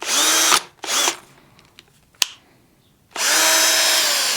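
A power drill whirs loudly in two short bursts, then after a pause spins up again in a longer, steady high-pitched whine.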